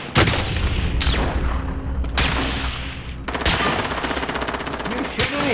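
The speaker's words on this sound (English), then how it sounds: "Ooh, this is a shotgun!" Gunfire in Call of Duty Warzone, a shotgun among bursts of automatic fire, loud and close, with sharp blasts spread across the clip and a final boom near the end.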